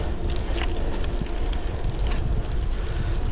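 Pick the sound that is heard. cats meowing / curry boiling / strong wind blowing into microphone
strong wind blowing into microphone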